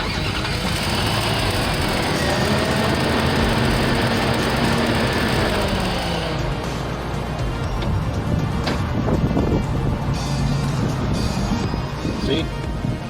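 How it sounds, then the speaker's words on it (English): A pickup truck with a failed power steering pump cranks and catches, then settles into a loud, steady running drone, with someone talking over it. "I'm gonna start the engine."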